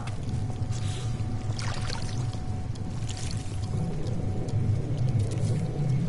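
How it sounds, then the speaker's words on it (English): Approaching storm in the video game No Man's Sky, a steady, low, continuous rumble that stays fairly loud and even throughout, with no voices. "we got ourselves a storm approaching"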